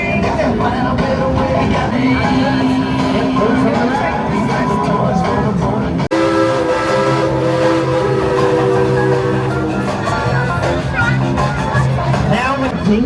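A steam train rumbles along steadily at Dollywood with continuous mechanical noise and a crowd chattering throughout, the rolling sound loud and close.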